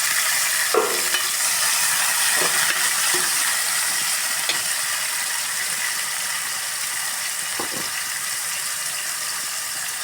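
Tomatoes and onions sautéing in oil for a village-style crab curry hiss in a loud, steady sizzle, with a few brief utensil scrapes and clicks scattered through.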